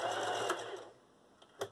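A sewing machine running a short reverse stitch: a brief burst of fast mechanical whirring up close, then a pause and a couple of faint clicks.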